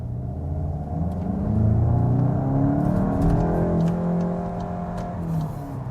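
A 2021 Mk8 VW Golf GTI accelerating in sport mode, heard from inside as a swelling mid-pitched engine rumble and whir that rises and then eases off.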